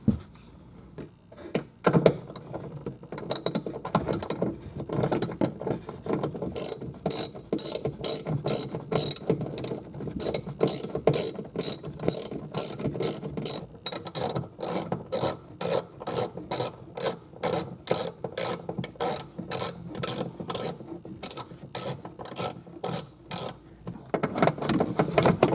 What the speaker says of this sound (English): I'm going to use a socket to remove these